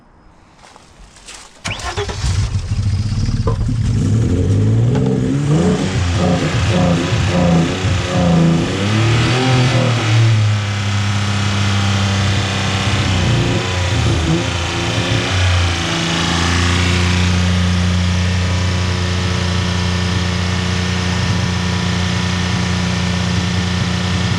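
A Vauxhall engine cranks and fires, then is revved repeatedly in loud, rising and falling bursts before settling into a steady idle; close and dominant, with a voice briefly heard.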